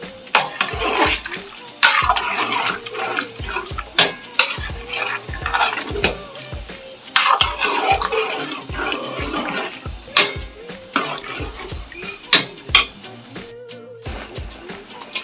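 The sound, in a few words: mixing half kilo of yogurt into chicken korma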